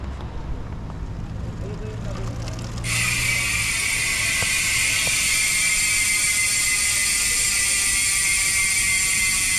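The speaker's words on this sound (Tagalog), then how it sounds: "yan yung tunog ng Hasis Pro 7 MTB hubs kapag naka free wheel" A Hasis Pro 7 mountain bike rear hub freewheels with a steady, rapid buzzing ratchet whir that starts abruptly and runs continuously and loud, following faint background noise.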